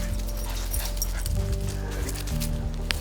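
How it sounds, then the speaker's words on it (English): Charlie, a pet dog, makes soft whimpering, panting sounds close by over a steady low hum, with faint talking in the background. "This is my dog Charlie."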